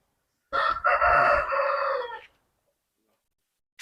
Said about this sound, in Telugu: ఈ సజ్జుల్లో కోళ్ళు అండి.